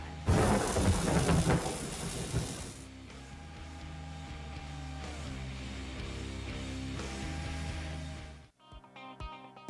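A thunderstorm sound effect in a radio advertisement: a loud crack of thunder and heavy rain give way to rolling rumble and steady rain, then cut off abruptly before a short musical sting.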